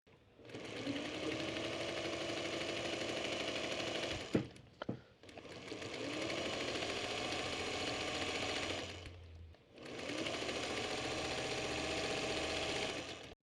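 Sewing machine chain piecing quilt fabric for a Friendship Star block, running in three long steady bursts of rapid stitching, with a couple of sharp clicks and a short pause between the runs.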